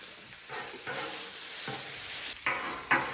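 Tortellini cooking together in a pot give off a soft, steady sizzle and bubbling hiss with a few brief stirring scrapes, fairly quiet and with no talking.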